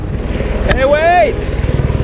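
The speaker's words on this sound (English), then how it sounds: "A helicopter?" Helicopter flying over a lake in New Zealand, a steady low rotor drone throughout, with a voice speaking over it partway.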